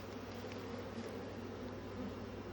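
Honeybees from a removed hive buzz outdoors in a continuous low droning hum, a dense swarm sound held at an even level with no talking.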